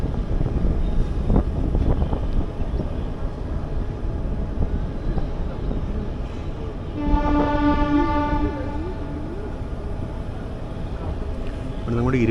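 A train crawls slowly under a 20 km/h speed restriction, its steady rumble and clatter filling the clip, with a drawn-out horn blast sounding partway through.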